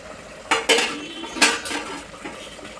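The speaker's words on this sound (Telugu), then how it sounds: "మూత తెచ్చుద్దామండి." Metal lid lifted off a pot of gongura mutton curry, a few sharp clanks and scrapes of metal on metal close by, the loudest near the start and middle, fading into quieter rattles.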